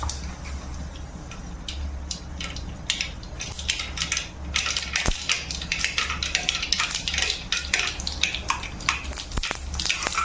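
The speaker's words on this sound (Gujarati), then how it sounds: "રાઈ જીરાનો વઘાર કરીશું।" Mustard seeds and cumin crackle as they temper in hot oil, with a dense run of sharp pops and spits rising after a few seconds and growing busier, close and fairly loud, with no talking.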